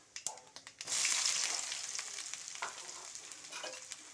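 Onions hit hot oil and ghee with seasoning seeds in a home kitchen pan for a Telugu broad-bean tamarind stew, a sudden loud sizzle that settles into a steady hiss with scraping stirs.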